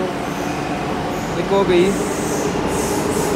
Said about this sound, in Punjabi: ਮੈਂ ਮੈਟਰੋ ਸਟੇਸ਼ਨ 'ਤੇ ਅਤੇ ਇੱਥੇ ਆਊਗੀ ਮੈਟਰੋ ਅੰਦਰ ਇੱਥੇ ਆਊਗੀ ਮੈਟਰੋ